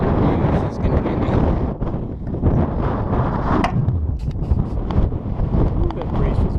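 Wind sweeps across a canyon hiking trail in McKittrick Canyon, Guadalupe Mountains, Texas, loud gusty buffeting on the microphone that surges and eases in uneven waves, steady throughout.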